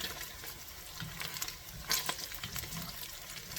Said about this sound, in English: you see how this bacon is cooking?